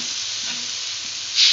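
Water added to a hot pan of cow skin and long beans with green chili, a loud steady sizzle and hiss that flares up sharply near the end.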